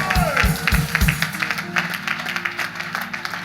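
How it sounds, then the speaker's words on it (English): A church congregation claps together during a sermon, a brisk, fairly loud burst of many hands that carries on unevenly, with a faint voice and some low rumble underneath. "Give God a clap offering in the house"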